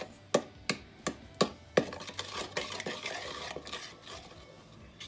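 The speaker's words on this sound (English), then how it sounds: "And again, just give that a stir to combine everything." A spoon stirs egg, egg yolk, sugar and melted butter in a bowl for cinnamon roll dough, with five sharp close clinks against the bowl followed by a steady scraping swish, and no voices.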